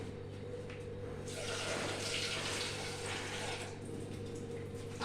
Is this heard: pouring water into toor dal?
yes